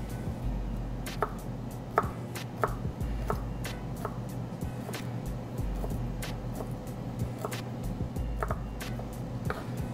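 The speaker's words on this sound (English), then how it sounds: "I do like to chop things up as finely as I know how" Vegetables are chopped finely with a knife: quick, uneven knife strikes on a board, repeated throughout over a low steady hum.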